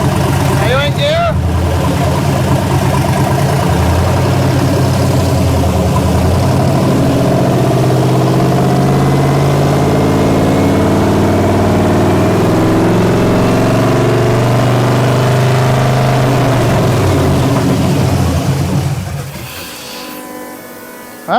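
A 1967 Chevelle with an LS swap idles in drive, a steady low rumble with a deep throb running unbroken for nearly twenty seconds before cutting off, while people talk.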